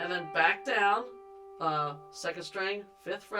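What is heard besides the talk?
None of the usual background noises is heard.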